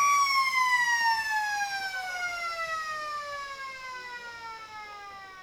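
A loud, sustained siren at an Australian rules football match ends the second quarter, wailing with a steady harmonic tone that slowly falls in pitch over several seconds, with faint crowd noise underneath.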